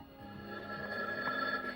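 A telephone bell rings steadily and fairly loud in a 1984 television drama scene, its repeating trill filling the moment with no voices over it.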